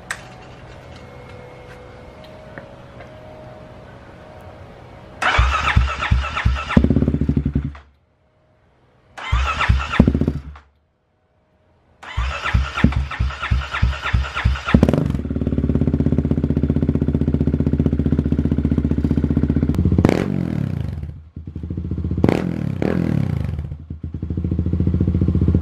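A 2018 Kawasaki KLX351 motorcycle fitted with a full Barker exhaust cranks and fires, then idles and revs in loud bursts separated by short silences, its rough popping note close and strong, ending in a sustained rumbling run.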